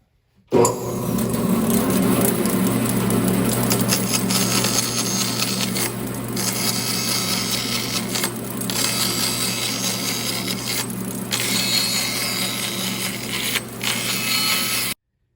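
A bandsaw cuts through a wooden board, a continuous close mechanical whir and rattle with the blade's buzz shifting in short dips as the wood feeds through, loud and steady throughout with no talking.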